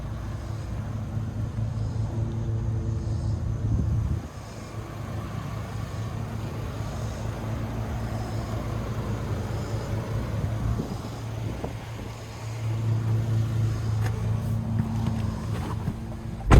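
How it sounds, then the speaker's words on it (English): A 2025 Chevy Colorado ZR2 with a 2.7-liter TurboMax engine idles as a low, steady hum. The hum fades and returns as the listener moves around the truck outdoors, with light wind noise and no speech. "it's actually a pretty quiet truck as I kind of walk around it as it idles"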